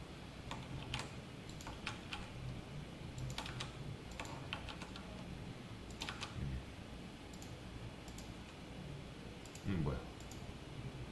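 Sparse computer keyboard keystrokes and clicks, typed in scattered bursts with pauses, sound close and soft over a quiet room tone.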